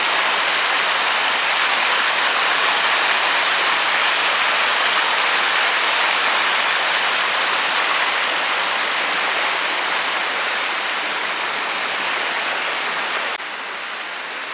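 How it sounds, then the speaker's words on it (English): Jonathan Creek rushes below an inn's back porch in Maggie Valley, North Carolina: a steady, full broadband water roar that stays constant throughout with no voices. "that overlooks the Jonathan Creek right down here"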